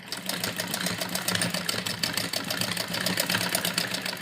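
Sewing machine stitching a double seam on a heavy-size suit, a steady continuous mechanical whir with rapid rhythmic needle chatter running the whole time, close and fairly loud, with no talk.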